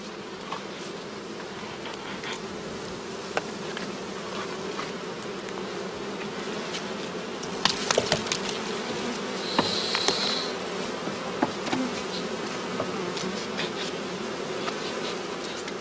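Honeybees buzz around a traditional straw skep hive on the northern German heathland, a constant close hum with individual bees droning louder as they pass near.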